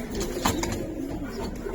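Soft cooing from a Giribaz pigeon, a silver old-lineage bird, low and continuous close by over a steady background murmur, with no voices.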